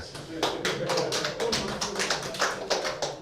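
A small group claps in a restaurant during a lecture, with irregular clusters of fairly close, sharp hand claps rising and falling across a few seconds.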